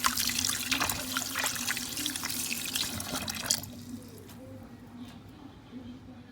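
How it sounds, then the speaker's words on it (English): Raw chicken pieces rinsed under a running kitchen tap for Jamaican brown stew chicken, a steady close splashing of water that cuts off partway through, leaving a quieter background with a faint bird coo. "I'm going to be running it under some rinsing water and wash it thoroughly."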